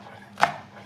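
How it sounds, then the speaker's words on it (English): A single knife chop slices through a leek on a cutting board, cutting it into half-moon slices; one crisp cut stands out, close and clear, against quiet room tone. "And then you just want to chop them into half moons."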